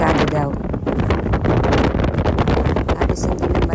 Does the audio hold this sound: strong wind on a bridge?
yes